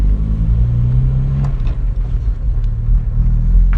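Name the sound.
1963 Jaguar Mk II shifting into second gear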